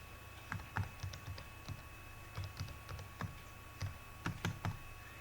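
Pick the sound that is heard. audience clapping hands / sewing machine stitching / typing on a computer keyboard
typing on a computer keyboard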